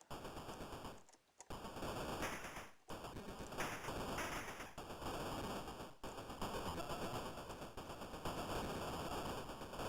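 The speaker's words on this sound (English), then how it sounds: "I got a machine gun." Rapid machine gun fire from an Amstrad computer game: dense, harsh bursts of shots fill the clip, broken by a few brief pauses, loud and noisy with no voices.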